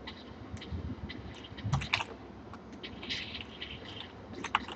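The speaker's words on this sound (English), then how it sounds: "I am double typing W and running." Keys tapping on a computer keyboard, quick irregular clicks with a repeated double press, fairly faint and close against a low background hiss.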